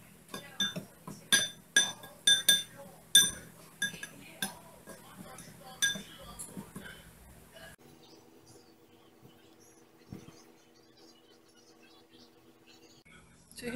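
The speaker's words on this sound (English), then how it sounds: "So we're just going to mix this quickly here, and I'm going to set this aside." Spoon clinks and scrapes against a bowl as cinnamon roll filling is mixed with sugar, a quick burst of close, bright knocks for several seconds that gives way to quiet room tone.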